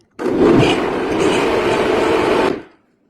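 A blender mixes banana oat muffin batter made with raw goat's milk, a single loud continuous whir that starts abruptly, runs steadily for over two seconds, then cuts off and spins down.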